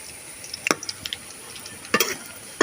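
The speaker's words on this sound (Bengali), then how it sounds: "তেলটা দিয়েছি, আর তেলটা গরম হয়ে গেছে। এখন আমি একে একে ভাজে নেব।" Fish roe chops go one by one into hot oil over a medium flame, giving sharp crackling sizzles in short bursts over a quiet background hiss.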